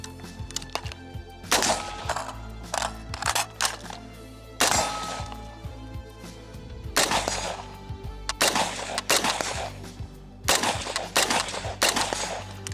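A Daewoo K2 rifle fires at steel targets outdoors in loud, sharp bursts of shots spaced across the span, each crack followed by ringing echoes, close to the listener.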